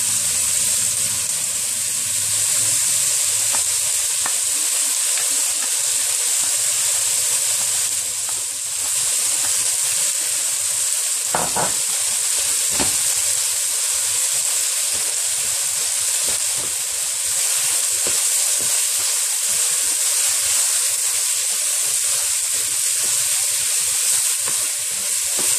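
Crushed ginger and garlic fry in hot oil for a samosa filling, giving a loud, continuous sizzle and hiss over about twenty-five seconds, with a few brief clinks as the pan is stirred.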